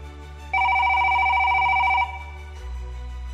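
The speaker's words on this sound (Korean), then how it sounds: "그때 전화벨이 울렸어요." A bright electronic telephone bell rings in one continuous burst of about a second and a half over a low steady hum, then cuts off, followed by a faint click.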